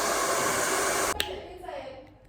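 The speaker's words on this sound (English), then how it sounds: "So I'm going to use the dryer." A hair dryer blows steadily and loudly on a closure wig being set with an elastic band, then cuts off abruptly after about a second, leaving faint handling noises.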